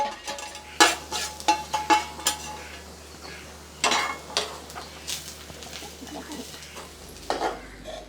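A utensil stirs onion, garlic and dry coconut as they roast in a pan, making intermittent scraping clatters with a soft sizzle in between.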